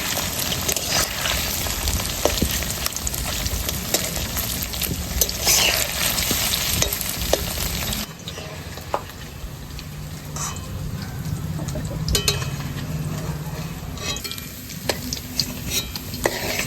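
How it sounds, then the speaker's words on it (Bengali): Paneer pieces fry in a pan with a dense, even sizzle and occasional spatula scrapes, louder in the first half and slightly softer afterwards, with no talking. "সব পনিরগুলো এরকম লাল লাল করেই ভেজে নেব।"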